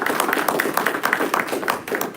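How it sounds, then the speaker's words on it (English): Applause from a small audience at university capstone design presentations, a steady patter of clapping hands with no voices. "Let's give him a round of applause."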